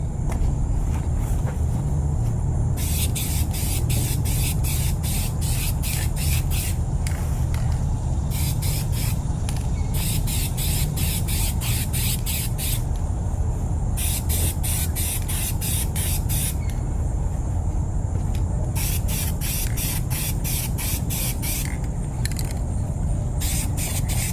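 An aerosol can sprays paint onto the wheels of an Infiniti G37 sedan in repeated hissing bursts of a few seconds each, set against a constant loud low rumble of background noise.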